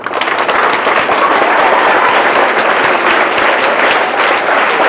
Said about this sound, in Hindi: तो सीए के हस्ताक्षर के लिए एक बार जोरदार तालियां।